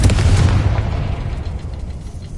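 A Confringo blast spell goes off in a wizard video game: a single loud, booming burst with a deep rumble that slowly fades over about two seconds, with no voices.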